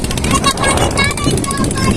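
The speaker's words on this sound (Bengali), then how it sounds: "আরেকটা ট্রলার চলে আসছে ইতিমধ্যে মাছ ধরার জন্য" A fishing trawler's engine runs on the Padma river, heard as a loud, steady rumbling drone mixed with wind buffeting the microphone and people talking over it.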